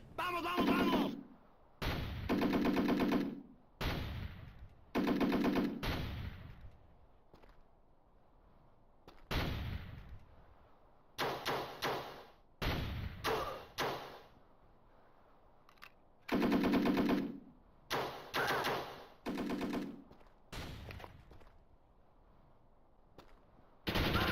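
Unsuppressed automatic gunfire in a Black Ops video game: loud rapid bursts of sharp shots separated by short pauses, repeating across the stretch, with talk faintly underneath.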